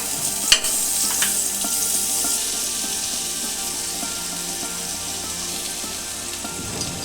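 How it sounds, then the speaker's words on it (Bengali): A spoonful of butter melts in a hot pan as the base for garlic butter. It gives a steady, close hiss of sizzling, with a couple of sharp clicks near the start. "প্রথমেই দিয়ে দিলাম 1 চামচ মতন বাটার"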